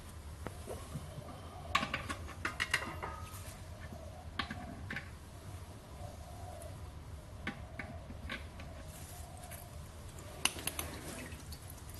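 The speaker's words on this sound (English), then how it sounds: "We'll drain the tank and see what's in the tank." Water drains from a workshop air compressor tank, faint irregular drips and spatters over a low steady hum, with scattered sharp ticks, quiet and without talk.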